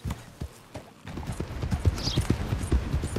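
Horse hooves clip-clop in a steady riding rhythm in Red Dead Redemption 2, sparse thuds at first that quicken into a continuous close gait.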